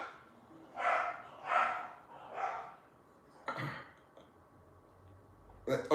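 Several dogs bark in short bursts indoors, three or four loud yelping barks early on and a few sharper yips later, with quieter gaps between.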